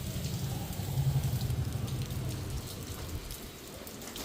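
Light rain patters steadily outside a home, a soft, even hiss of drops on surfaces that is faint and continuous, with a low rumble underneath and no voices.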